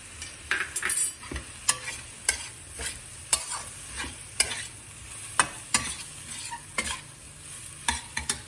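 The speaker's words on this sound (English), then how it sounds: "I'll let the tomato cook properly and adding a little bit more salt" Tomatoes cook in a pan for a spinach moong dal masala dosa filling, a soft sizzle broken by repeated scraping and tapping stirs of a spatula at irregular intervals, close and fairly quiet, with no talking.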